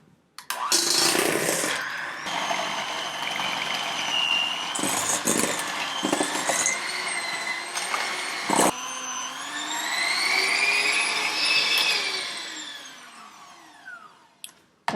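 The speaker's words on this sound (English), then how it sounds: "cream the butter with the sugar using an electric mixer" Electric mixer creaming butter with sugar for Scotch shortbread cookies, a steady loud motor whine that shifts pitch as the beaters work, with brief clatters and a short break partway through.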